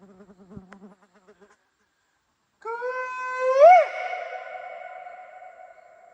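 A bee buzzing close by in the Kimberley, Australia, a faint drone at first, then a louder steady hum that swells in pitch briefly before settling.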